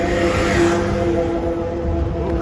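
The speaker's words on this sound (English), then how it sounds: "crazy traffic here with the mopeds" Mopeds and cars stream across New York's Queensboro Bridge in a steady, loud traffic roar, with a sustained engine drone and tonal hum running unbroken throughout.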